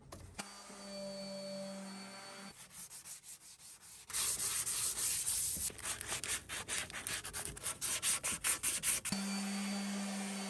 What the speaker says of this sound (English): They work a lot faster. They're more durable, and you don't get the little spiral things as much as you do with regular sanding discs